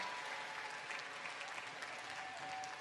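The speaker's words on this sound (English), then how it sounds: "Let's give a big round of applause to all of our fourth grade semifinalists." An awards ceremony audience at a school entrepreneurship day claps for fourth grade semifinalists, a steady, fairly soft wash of applause from a room full of people.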